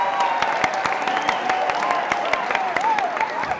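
An audience at a Ken Saro-Wiwa candlelight vigil clapping for themselves, a steady patter of many hands applauding at moderate distance with crowd murmur, sustained for several seconds.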